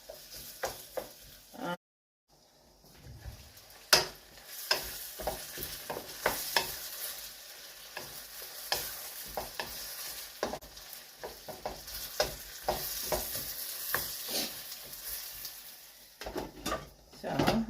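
Tomatoes and onions frying in a pan for Jamaican-style chicken chop suey, a steady sizzle broken by irregular stirring scrapes and clinks of a utensil against the pan, close and fairly quiet, after a brief drop-out near the start.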